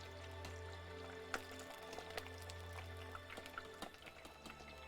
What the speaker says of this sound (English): So all that bubbling and crackling, that's the excess moisture from the chips.